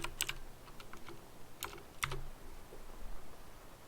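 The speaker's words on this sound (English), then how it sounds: "let's just type in YouTube, for example." Keys clatter on a computer keyboard in quiet, irregular bursts of sharp clicks spread over about four seconds, faint and alone with no voices.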